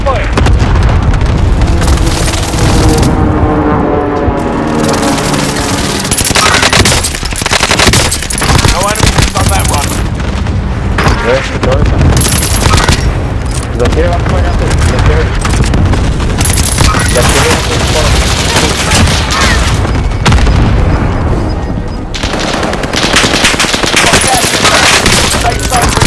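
Call of Duty: Modern Warfare airstrike with loud, continuous booming explosions and bursts of rapid gunfire throughout, with voices shouting over the battle.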